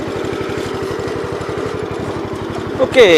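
The engine of an old tractor called 83, fitted with a snowblower for clearing snow, chugs in a close, loud, rapid, even rhythm. A voice speaks briefly near the end as the pitch shifts.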